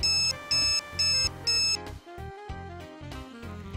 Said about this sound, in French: Mode 1. Bip plus 8 niveaux progressifs de stimulation.